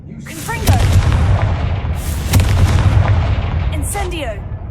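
Explosive Confringo spell cast in Hogwarts Legacy, a series of loud booming blasts and cracks with sharp bursts near 0.7 and 2.3 seconds, amid game effects and a spoken voice.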